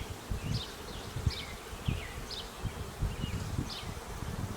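A honey bee swarm buzzes steadily around a hive box in a suburban setting, a dense continuous hum with individual bees whining past up close.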